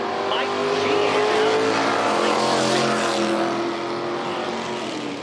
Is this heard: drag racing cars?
yes